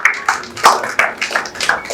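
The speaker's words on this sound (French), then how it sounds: "On peut applaudir mon ami et parrain Denis Chiza" Audience at a Burundi international film festival clapping for Denis Chiza, a brief patter of irregular hand claps with uneven bursts, fairly close and alone.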